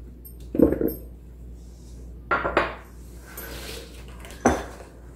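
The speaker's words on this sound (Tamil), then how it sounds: "இப்போ இந்த மாதிரி ஒரு பெரிய பவுல் எடுத்துட்டு மஷ்ரூம்," Vegetables, including mushrooms, zucchini, onion, cherry tomatoes and capsicum, drop into a large bowl for a vegetable barbecue. Three or four separate clattering knocks are heard close up in a quiet room, with short pauses between them.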